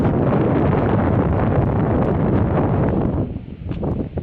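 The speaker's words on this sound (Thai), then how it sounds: "เสียงลม" Strong sea wind buffets the microphone at a fish landing pier on the coast, a loud continuous roar that eases slightly near the end.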